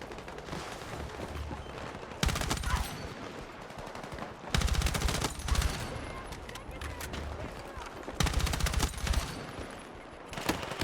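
Rapid automatic gunfire in the video game Battlefield 6, loud bursts of shots from several weapons coming in waves over a constant battle din, with no speech.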